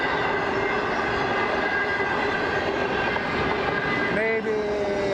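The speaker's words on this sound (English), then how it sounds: "And then the locomotive pushing it from back." Long freight train rolling past with a locomotive pushing from the rear, a loud, continuous rumble and rail clatter nearby with a brief shifting tonal squeal near the end.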